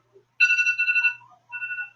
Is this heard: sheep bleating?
no